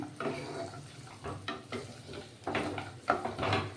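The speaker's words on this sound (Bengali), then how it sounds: "এইটা আমি একটু নেড়ে নিচ্ছি" Mushrooms being stirred in a frying pan with a spatula, a close series of scraping and clattering strokes over a soft, steady sizzle, several sharper knocks of utensil against the pan toward the end.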